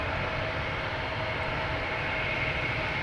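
Airplanes taxiing and taking off at Boston Logan Airport: a loud, continuous jet engine roar with a broad, even rushing tone, steady throughout with no talk.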